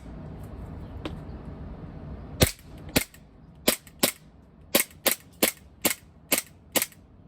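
A WE-Tech Glock 17 airsoft gas blowback pistol fires about ten sharp, close cracks in an uneven, fairly quick sequence, preceded by a faint earlier pop, with no talking.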